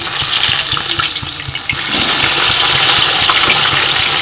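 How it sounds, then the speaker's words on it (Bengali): Rohu fish pieces frying in plenty of oil for a mustard rohu kalia, a loud, dense continuous sizzle close up, swelling louder midway, with no talk. "একটু বেশি তেলেই মাছগুলো ভাজতে হবে।"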